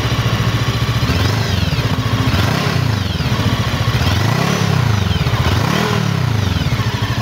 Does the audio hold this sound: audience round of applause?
no